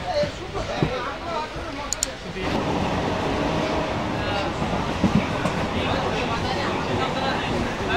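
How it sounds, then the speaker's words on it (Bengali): A Ranaghat to Bangaon local train rumbles steadily along the rails, a continuous loud mechanical roar with a few sharp clicks, while voices talk faintly inside the carriage. "ট্রেনে উঠতেই সঠিক টাইমে আমাদের ট্রেনটা ছেড়ে দিল রানাঘাট থেকে বনগার"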